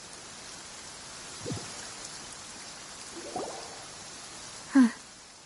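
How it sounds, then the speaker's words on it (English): Steady rain falls in the Genshin Impact video game, a soft continuous hiss with a few distinct drops or light thuds standing out near the end, moderately quiet and with no voices. "It's been raining non-stop for a few days now."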